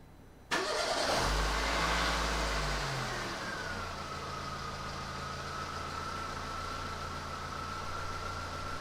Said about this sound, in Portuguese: Na hora que eu der a partida aqui no carro